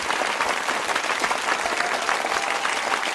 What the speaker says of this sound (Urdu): زوردار تالیاں بجا کر آپ ان کا سواگت کریں